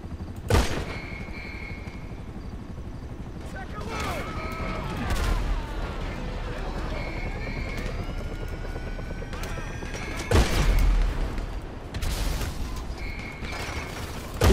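Gunfire in the video game GTA Online, heard as several sharp bursts of shots at intervals over a steady engine and helicopter-like drone, with a voice speaking between the volleys.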